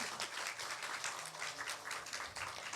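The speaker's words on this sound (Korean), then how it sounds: "박수를 좀 크게 쳐주시면 좋겠습니다." A church congregation claps for a children's drawing award at a Sunday service, a fairly quiet, uneven patter of hands in a small room with no voices over it.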